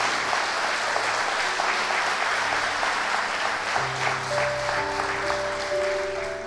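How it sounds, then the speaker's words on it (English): An audience applauds steadily, a sustained broad clapping that holds evenly throughout, with faint tonal sounds emerging underneath toward the end. "Give them a round of applause, please,"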